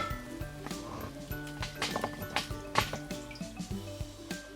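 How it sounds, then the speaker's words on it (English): Excess oil left from frying onions is poured out of a pan into another pan, giving close, faint trickling and dripping with small irregular splashes and light metallic clinks. "I would remove this excess oil into another pan."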